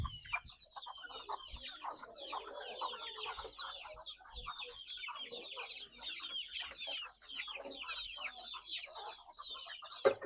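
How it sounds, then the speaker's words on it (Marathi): Poultry chickens at the Sahyadri Agro farm cluck and chatter continuously, many birds overlapping in a busy flock chorus, moderately distant with no talk. "हे बघा इकडे पक्षी बघा, किती मोठे मोठे पक्षी तिकडे."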